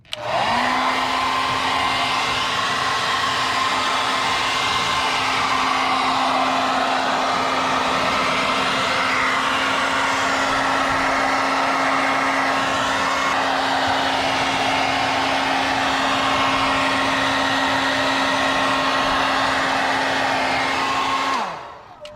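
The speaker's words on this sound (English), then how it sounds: "we're gonna shrink it by using the fancy hair dryer from Revlon" A Revlon hair dryer blows loudly and steadily for about twenty seconds, a constant whirring hum that cuts off at the end, used to heat-shrink carbon fiber wrap on a Tesla Model 3 interior panel.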